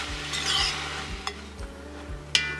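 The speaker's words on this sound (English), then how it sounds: "give me a few minutes to get the sausage fried down" Italian sausage frying in a pot for minestrone soup, a steady close sizzle with repeated scraping stirs of a utensil and a few sharp clinks against the pot, no voices.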